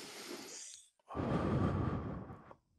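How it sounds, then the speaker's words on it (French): A long, deep breath: a short airy inhale, a brief pause, then a full, loud exhale lasting over a second, heard up close with no talking. "Une grande respiration."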